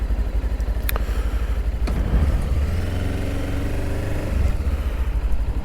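A Voge 525 DSX motorcycle engine on the road, a steady mid-pitched drone heard up close from the rider's position, with a low rumble that swells slightly partway through and some wind noise over it.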